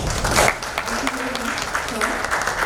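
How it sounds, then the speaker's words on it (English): An audience applauds after a keynote speech on becoming a successful leader, a steady wash of clapping from a crowd that continues throughout, with a voice briefly heard over it. "a huge round of applause for Mr. Bhaskar Pramanik for this very wonderful inspirational note"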